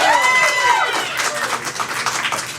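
An audience at a Lake County school board meeting breaks into a dense run of clapping and cheering. A few high whoops ring out at first, then steady, close applause fills the room with no talking.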